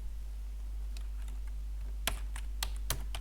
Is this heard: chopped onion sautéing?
no